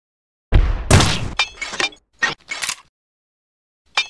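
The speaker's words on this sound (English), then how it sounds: "Now shoot it while it's falling on you" In the video game Simple Sandbox 2, a falling train is shot and breaks apart with loud crashing and shattering bursts, followed by a few shorter clattering impacts, then silence and one last brief hit.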